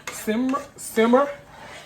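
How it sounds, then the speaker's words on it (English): Noodles stirred in a cooking pot, giving a few short scraping, clinking utensil strokes against the pot in two brief bursts, close and fairly loud. "And now I'm stirring up the noodles."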